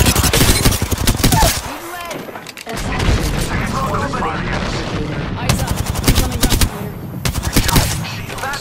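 Rapid automatic gunfire bursts in the video game Apex Legends, loud and close, with short pauses between volleys and game voice lines spoken over the shooting.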